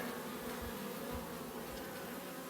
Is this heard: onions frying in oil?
no